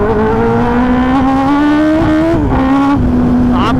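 A 2024 Kawasaki Ninja ZX10R engine pulls hard and loud, its pitch climbing smoothly through one long rev before dipping and rising again, close and dominant, with no voices.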